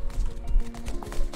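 Horse hooves clip-clop in the Rust video game: a quick run of close, loud, uneven hoofbeats over about a second and a half, with no talk.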